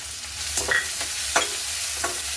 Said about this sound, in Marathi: आता याच्यामध्ये कट केलेला कांदा घालू।